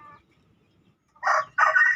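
A rooster crows loudly and close at a chicken coop, two bright bursts following a brief cluck, with nothing else around them.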